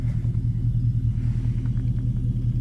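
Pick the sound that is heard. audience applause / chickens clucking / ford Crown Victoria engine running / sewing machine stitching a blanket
ford Crown Victoria engine running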